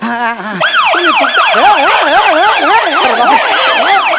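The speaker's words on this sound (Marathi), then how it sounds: "काय झालं काय सायरन वाजला" A loud wailing siren rises and falls in rapid repeated sweeps, close and steady, during a stage comedy sketch.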